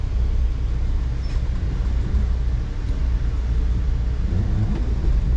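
Steady low rumble of an Amtrak passenger train in motion, a continuous heavy drone with faint rattles, heard from inside the car.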